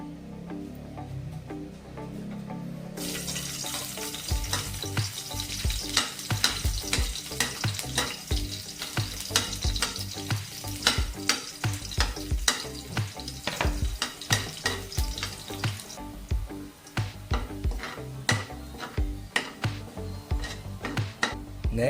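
Garlic frying in cooking oil for pork adobo: after a quiet start, a loud, steady sizzle erupts, broken by frequent clinks and scrapes of stirring in the pan.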